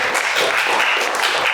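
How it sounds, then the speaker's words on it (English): An audience claps steadily at a concert, a dense, loud wash of applause from a crowd with no talking. "Can we please clap for Jeff?"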